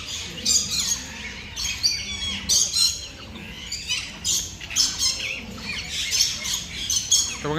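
Colourful parrots squawk loudly at Alipore Zoo in Kolkata, letting out repeated harsh, piercing calls in quick irregular bursts that overlap one another throughout.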